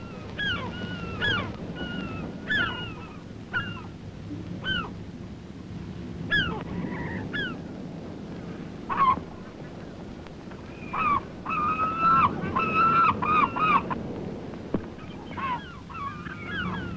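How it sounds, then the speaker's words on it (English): Kittiwakes call on the flat northern beach of Surtsey, repeated harsh, nasal cries from several birds in irregular bursts over a low wash of surf and wind. "The kittiwake sometimes gather in thousands on the flat northern beach."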